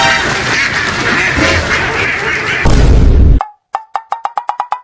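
A duck quacks in a rapid series of sharp, clear calls, loud and close, following a burst of noisy rustling.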